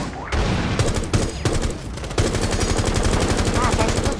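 Rapid bursts of automatic gunfire in Rainbow Six Siege rattle continuously and loudly, with short pauses between volleys and a voice briefly audible underneath.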